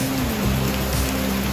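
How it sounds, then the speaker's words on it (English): Steady hiss of rain falling on a surface, constant and fairly loud, with a low background hum and no voices. "Still raining"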